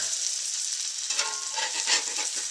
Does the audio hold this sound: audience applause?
no